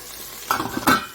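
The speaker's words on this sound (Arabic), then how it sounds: "هنا هنفضل نشوح كده السمين لحد ما يسيح كله" Tripe fat is stirred in a hot pan as it melts and fries, with two short close scraping clinks of a utensil over a soft sizzle, alone and brief.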